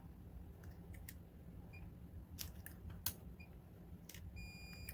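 A faint electronic beep from a multimeter continuity test sounds near the end, preceded by quiet clicks and handling noises in a hushed room.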